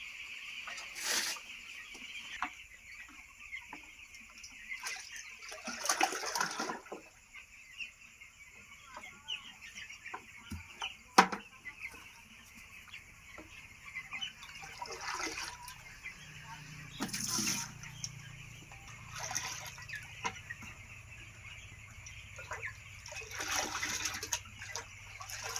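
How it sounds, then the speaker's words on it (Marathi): Water from a full tub is tipped out in several separate splashing gushes in a chicken coop, while hens cluck and chatter nearby and someone talks quietly. "आता त्याचं पाणी आम्ही काढून टाकतो बाहेर"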